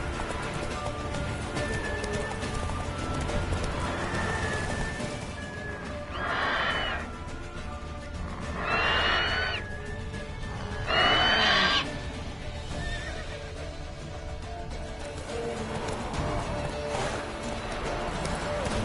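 A horse ridden in a PS4 video game clip-clops in a continuous steady gait, with three loud whinnies rising over the hoofbeats at intervals.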